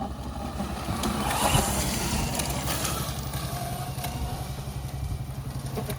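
A Mototec 60V Pro 2000W electric dirt bike running hard at steady speed with a buzzing whine, rear tire scrubbing and clattering over rough ground, continuous and fairly close.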